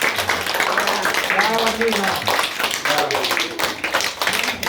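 Primary schoolchildren clap for their host during a visit to a football museum, brief uneven applause with a voice calling out over it and chatter in the background.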